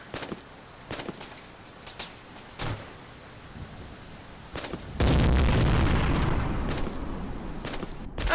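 A grenade launcher firing in a first-person shooter game: scattered light clicks and small pops first, then a loud heavy blast that leaves a sustained rumbling roar building to the end, no talk.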